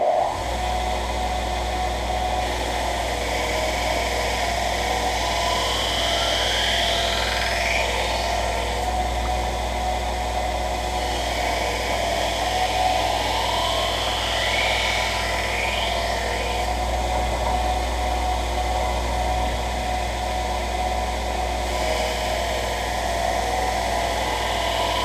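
Continuous abrasive whirring of a belt grinder with a fine belt running steadily, with occasional rising and falling scraping sweeps as a heat-treated steel knife blade is pressed against the belt.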